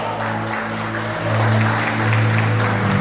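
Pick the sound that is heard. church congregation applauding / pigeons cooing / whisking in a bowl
church congregation applauding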